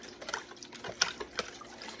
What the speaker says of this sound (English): I'm going to put a little bit more water in this.